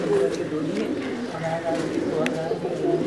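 Rooftop loft pigeons coo in a steady overlapping murmur, several birds close by with rhythmic throaty calls, while someone talks over them.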